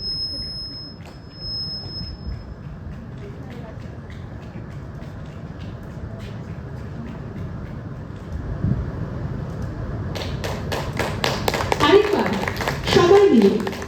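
Audience applause at an international film festival ceremony, rising near the end into a dense burst of clapping over a hall murmur, after a stretch of low crowd noise.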